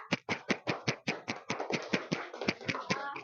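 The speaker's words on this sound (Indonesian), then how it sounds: "kita beri tepuk tangan untuk Dafa" Classroom clapping hands, a group of students clapping in a quick, fairly regular rhythm of sharp claps, close and moderately loud, with a few voices faintly underneath.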